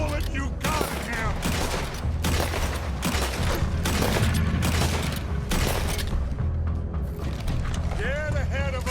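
A shootout in the video game Red Dead Redemption 2 brings dense, rapid gunfire in clustered bursts with booming reports, loud and close, while game characters shout over the shots.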